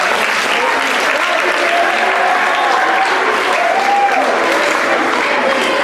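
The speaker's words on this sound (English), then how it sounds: "So give them a round of applause." Loud, sustained applause from an awards ceremony audience honoring Spanish 3 students at a high school, a dense wash of clapping throughout with a few faint voices mixed in.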